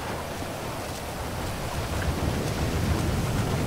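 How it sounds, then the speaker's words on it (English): Steady rainstorm with low rumbling thunder in the Grand Theft Auto 5 video game, a continuous broadband wash of rain that swells slightly louder toward the end, with no talking. "It's raining, nigga. It's storming out here."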